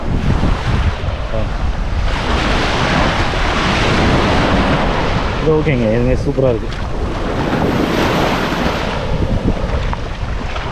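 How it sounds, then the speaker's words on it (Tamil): Small ocean waves wash steadily onto the beach at Redcliffe, Brisbane, under gusting wind noise, while people talk briefly in the middle. "இல்லை ரொம்ப பெருசாலாம் இல்லை சும்மா சின்னதாக இருக்குது அலை"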